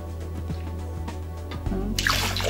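Pineapple juice is poured for a piña colada: a low running hum with faint drips, then a fuller, brighter splashing pour of liquid in the last second, close, with no voices.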